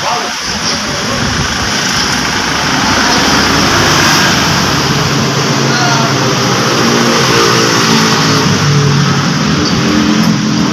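A Mitsubishi Mirage G4 car's engine, which has an alternator fault, runs at a close, loud, steady hum for the whole stretch, with a few brief rattles at the start.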